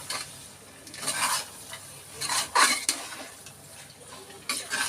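Meat curry gravy being stirred in a pan: scraping, wet stirring strokes in a few bursts with a light sizzle underneath, close and moderately loud, no talking.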